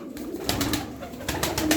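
Tumbler pigeons, including a smoky-coloured male, give soft low coos close by, with several brief flutters or wing claps breaking through in short bursts.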